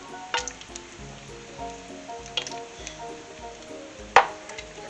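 Bacon fat sizzles steadily in a pan in the kitchen, a soft continuous crackle broken by scattered pops and one sharper spit, near and alone without talk.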